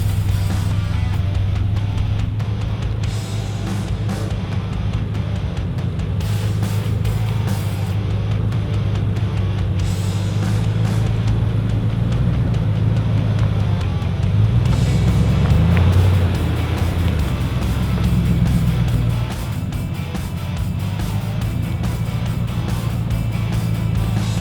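A 4WD car rolls along an overgrown dirt track in the Atherton Tablelands, a steady low engine rumble and road roar that holds for the full stretch, swelling slightly midway.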